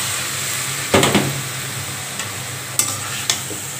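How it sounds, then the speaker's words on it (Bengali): Marinated beef sizzles in hot oil over lightly fried onions in a pan, a constant crackle broken by a few sharp spoon scrapes and knocks as the mixture is stirred. "মাংসটাকে ভালোভাবে কষিয়ে নিব।"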